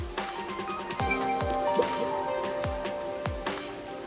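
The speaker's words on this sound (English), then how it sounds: "I've heard that it always rains here." Steady rain falls in the video game Master Detective Archives: Rain Code, a close, continuous patter with a few sharp drips landing over a low ambient hum, with no voices.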